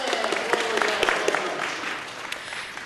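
Audience at a city committee meeting breaks into applause, a dense steady clatter of many hands that thins slightly toward the end, with faint voices beneath.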